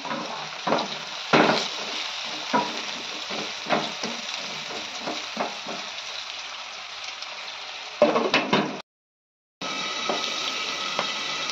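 Pointed gourd (potol) sizzles and fries in a pan with a steady crackle. Stirring scrapes and clatters break in repeatedly, then there is a brief silence before the sizzling resumes.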